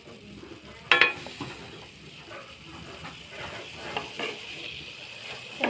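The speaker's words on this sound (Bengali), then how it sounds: "মিষ্টি কুমড়া আর আলু কুচিয়ে আমি লবণ হলুদ মাখিয়ে ভাজি করছি" Chopped pumpkin and potato with salt and turmeric frying in a wok, giving a steady low sizzle with faint stirring scrapes and one sharp clank of a utensil early on.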